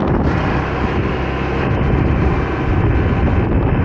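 A 2024 Honda PCX scooter's exhaust roars steadily under throttle at close range, a loud continuous broadband rumble with wind buffeting mixed in and no pause throughout.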